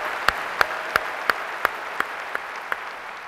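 A large audience at a presidential candidates' forum applauds in a steady, dense wash, with sharper claps standing out in a regular rhythm roughly three times a second. It stays even and moderately loud throughout, with no talking.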